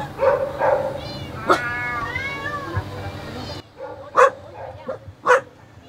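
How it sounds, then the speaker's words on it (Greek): Cats kept in cages at a home crowded with about 70 cats and 10 dogs meow and wail in drawn-out calls, mixed with a few sharp, close dog barks spaced across the recording. "την παρουσία τους υποδηλώνουν μόνο τα νιαουρίσματα και τα γαυγίσματα που συχνά αναστατώνουν τη γειτονιά"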